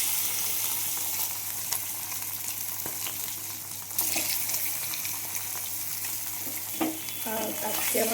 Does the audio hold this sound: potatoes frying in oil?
yes